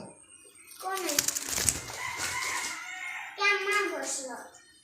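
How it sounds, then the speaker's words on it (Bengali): A rooster crows loudly nearby in drawn-out calls, with a voice and other talk mixed in around it. "মুসাহিবা, মুবাশিরা, পাখি তো গেল না মু।"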